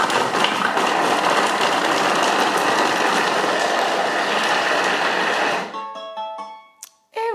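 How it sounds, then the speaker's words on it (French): A Thermomix chops carrots and a handful of parsley at speed 5 for five seconds, giving a loud, dense whirring roar that stops abruptly and is followed by a few short electronic beeps. "je ferme mon Thermomix, je règle 5 secondes et je mets vitesse 5"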